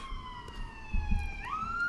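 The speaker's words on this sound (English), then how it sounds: "Let that siren pass." A police-style siren wails past outdoors, its steady tone sliding in pitch as it goes by, moderately distant and continuous over low traffic rumble.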